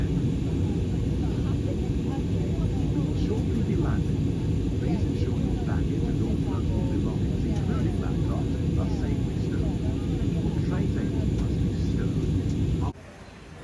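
Inside an airliner cabin in flight from London Luton to Edinburgh, a loud, steady engine and airflow roar fills the space without a break, then drops suddenly to a quieter level just before the end.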